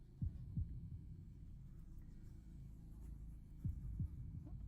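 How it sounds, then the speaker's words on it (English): Heartbeats pulse in the indie horror video game Lair of Torment: two pairs of deep, thudding double beats, one near the start and one near the end, over a steady low ambient hum. "Why do I hear heartbeats?"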